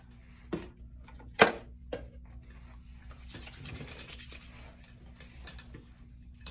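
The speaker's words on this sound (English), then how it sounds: "So I'm gonna sanitize my hands." Hand sanitizer is worked between two palms, giving a few sharp taps and a squirt near the start, then a soft, continuous close rubbing and swishing of skin.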